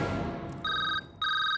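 Telephone ringing with two short electronic double-tone bursts rising over a background rumble, close and clear.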